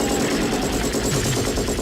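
An M60 machine gun fires a sustained, rapid automatic burst in an Arnold Schwarzenegger film, loud and dense, with the shots running together into a continuous rattling roar for about two seconds.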